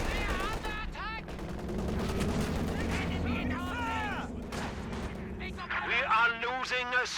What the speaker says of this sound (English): the machine gun shutting down that play from Shadics